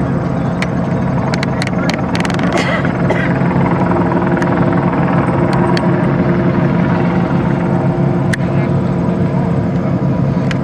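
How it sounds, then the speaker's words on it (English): A police helicopter passes overhead above a river tour boat near the Detroit Princess, its steady rotor drone mixing with boat engine and water noise throughout, with faint background voices. "I got the helicopter."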